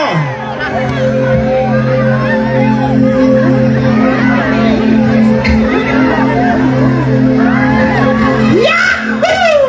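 A fiesta concert crowd in Biliran, Leyte cheers, whoops and shouts loudly and continuously over a sustained droning band chord, with voices calling out throughout.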